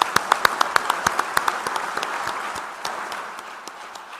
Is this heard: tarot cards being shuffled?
no